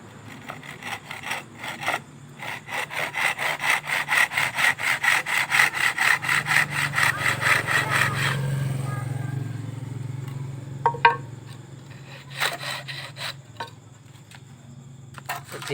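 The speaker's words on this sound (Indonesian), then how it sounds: "kita potong menggunakan gergaji." A hand saw cuts through a wooden roof-ring board in quick, rhythmic back-and-forth strokes, loud and close, then slows to a few scattered rasps and knocks as the cut finishes.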